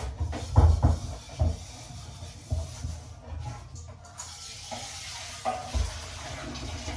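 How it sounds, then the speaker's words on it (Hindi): Spices crackle and sizzle in hot oil with a steady frying hiss, punctuated by louder pops and stirring clatter up close. "अभी अभी मैंने तड़का लगाया है।"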